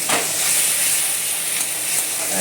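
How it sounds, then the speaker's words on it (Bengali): Cumin seeds, a chilli and bay leaf hit hot oil as a tempering for a vegetarian soybean curry, giving a steady, close hissing sizzle throughout with faint crackles. "জিরে ফোড়ন দিয়ে দিলাম, একটা লঙ্কা বা তেজপাতা।"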